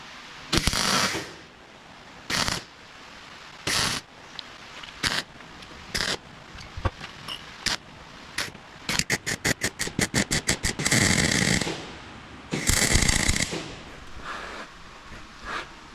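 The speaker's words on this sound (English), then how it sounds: "I'll hold it with a G-clamp and we'll weld it on" Tack welding a steel piece clamped onto the axle of a 1956 VW Beetle, heard as a series of short crackling bursts of varying length, some quick rapid pulses and some longer sizzling runs, fairly close with quiet gaps between.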